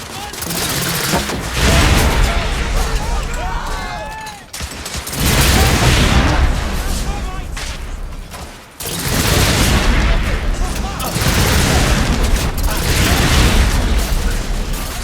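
Heavy gunfire from the Victorian-era shooter The Order: 1886, loud rattling bursts of automatic fire and booming impacts in three long waves separated by brief lulls, with shouted voices mixed in.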